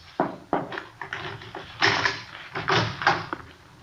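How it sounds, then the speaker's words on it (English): Key turning in the lock and a back door being unlatched and pushed open in an early-1950s radio police drama, with a run of close, sharp clicks and knocks followed by louder creaking and handling noises. "It's locked. Keys in the door."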